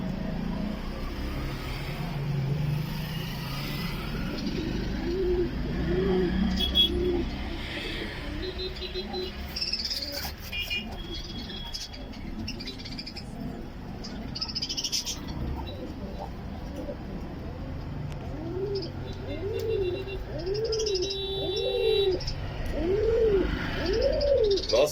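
Egyptian pigeons coo repeatedly in a loft, soft rolling calls recurring under steady background noise and someone talking, with occasional chirps and distant car sounds.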